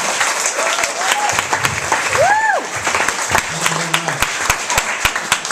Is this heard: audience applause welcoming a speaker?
yes